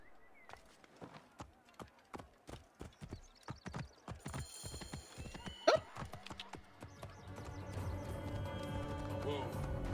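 A horse in the video game Assassin's Creed Origins, its hooves clip-clopping in a steady rhythm that speeds into a gallop, with a neigh partway through and rising rumble and game effects toward the end.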